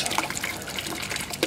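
Water runs through a siphon tube into a tank of media, a steady close gushing and trickling flow with bright splashy texture throughout.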